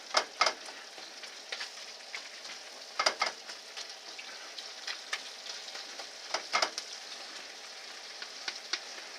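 Meat sauce for a deep dish pizza cooks in a pan, a steady close hiss of sizzling broken by scattered crackles and the occasional stirring scrape.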